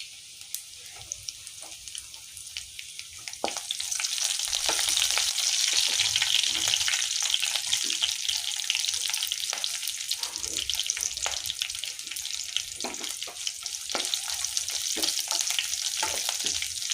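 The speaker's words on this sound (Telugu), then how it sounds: "ఇవి కరివేపాకు వేస్తున్నామండి." Curry leaves sizzling in hot oil during tempering for a raw banana curry, a loud continuous hiss that swells after the first few seconds and carries on with scattered crackles, close and without speech.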